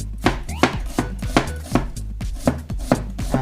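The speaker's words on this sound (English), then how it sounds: "Now let's cut some onion, see how that is good." A Damascus steel knife slicing through onion on a board, a steady run of about ten crisp, evenly spaced cuts, close and clear with no talk.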